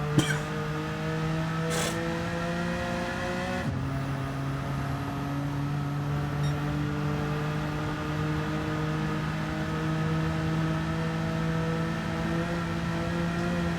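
A 1992 Jaguar XJ220 engine in a racing video game holds a steady, droning tone, then shifts gear with a brief drop before humming on at a constant pitch.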